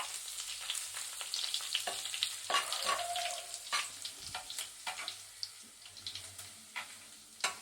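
Dried red chillies fry in hot oil with garlic and ginger for a kingfish curry, a crackling sizzle dotted with frequent sharp pops and spatters, close and lively with no voices.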